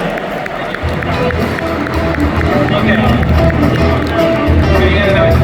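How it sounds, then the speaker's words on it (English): Party crowd at a holiday podcast gathering applauding and cheering a guest, a steady dense wash of clapping and crowd noise with voices mixed throughout, loud and close for the whole stretch. "Big round of applause for Alex our friend of the pod, Alex Botez."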